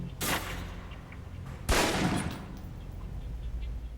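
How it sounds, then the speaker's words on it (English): Two loud pistol shots ring out in a shooting video game, spaced about a second and a half apart, each with a short echoing tail over a steady background hum. "aim down range and take some shots at the target"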